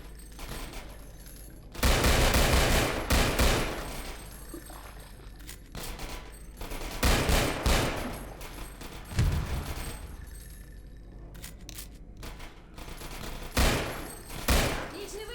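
Gunfire rattles through a Half-Life 2: Episode One firefight, repeated bursts and volleys rising and falling over a constant background din across the whole stretch.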